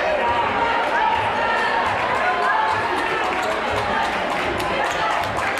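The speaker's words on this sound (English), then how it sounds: "Once again, a loud crowd here." Loud, steady crowd noise fills a gym during a high school girls basketball game between Morris Catholic and Saddle River Day, with sneakers squeaking and bouncing balls faint beneath the constant roar of voices.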